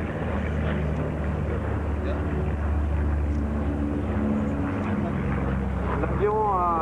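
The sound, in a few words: Boeing B-17 bomber engines at an airshow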